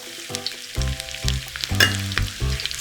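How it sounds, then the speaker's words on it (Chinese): Garlic slices and dried shrimp frying in hot oil over low heat, a steady soft sizzle with bursts of crackle and a few low thuds of the pan or utensil, close and with no talking. "再放一小把虾米， 小火炸好"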